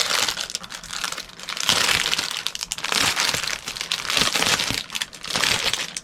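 Plastic packaging from a diamond painting kit crinkles and crackles up close during unboxing, a loud, continuous rustling with irregular surges and brief dips.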